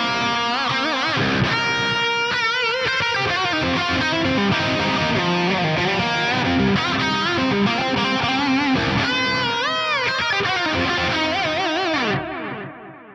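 High-gain electric guitar through an amp with a 35% mix delay, playing a loud, sustained, bending lead line with dense echoing repeats that tail away gently at the end.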